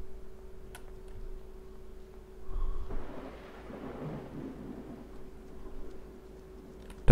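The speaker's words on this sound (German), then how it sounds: "Oh, dieses Gewitter, das ist auch nicht schön." Rolling thunder from a storm in a German horror video game, Obscuritas, with a low rumble swelling around the three-second mark and lingering over faint steady rain and a background hum, no voices.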